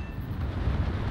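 In the War Thunder naval game, a torpedo hit on a sinking ship lands as a deep, rumbling boom that rolls on without a sharp break through a short burst.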